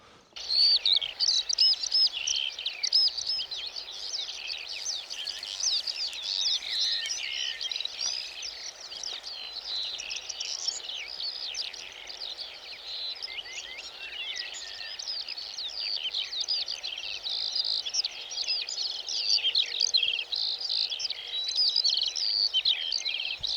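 Swifts give high shrill calls and screeches continuously, many overlapping chirps at moderate distance, with no talking.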